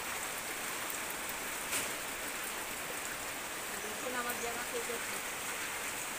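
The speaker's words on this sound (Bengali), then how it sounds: "এই জন্য আপনাদেরকে বৃষ্টি দেখাচ্ছি।" Rain falls steadily around a village house as a soft, even hiss of drops on surfaces, fairly quiet and continuous, with a faint voice now and then.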